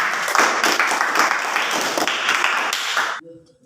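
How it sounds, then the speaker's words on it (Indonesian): A class applauds the Pancasila group in a classroom, a dense burst of many hands clapping that cuts off sharply near the end, leaving near silence with a faint voice. "Kita kasih tepuk tangan untuk kelompok Pancasila."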